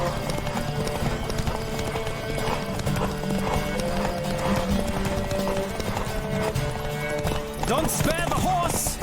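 Horse hooves galloping in The Witcher 3, a dense continuous clip-clop with snorts and a whinny toward the end, heard under game music and talk.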